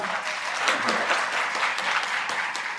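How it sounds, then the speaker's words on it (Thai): A crowd claps steadily to welcome a speaker at a Move Forward Party launch event in Trat, a dense continuous wash of applause that holds level from start to finish. "ขอเสียงปรบมือต้อนรับคุณจตุพัฒน์เลิศสหกุลครับ"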